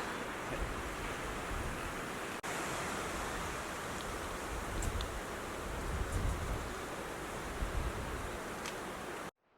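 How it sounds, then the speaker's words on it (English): Strong wind roars across an exposed mountain trail high up in New England, a loud continuous rushing with gusty swells and buffeting against the microphone, with no voices. "It's getting windy though, especially as we get up higher."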